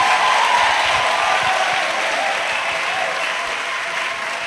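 A church congregation applauding in ovation, a full, steady wash of clapping throughout that eases slightly toward the end, with no voices on top.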